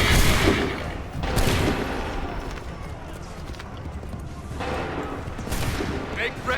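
Musket volleys fired on command in the video game Assassin's Creed 3, with loud crackling bursts of massed gunfire at the start, around the one-second mark and again later, against a busy battle din with shouted commands.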